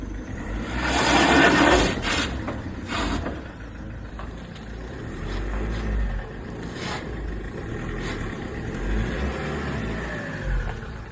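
Mahindra Scorpio 4x4 engine revving as the vehicle drives out in four-wheel drive, a loud low rumble that surges near the start, then settles into steady engine drone with occasional thumps, no talk.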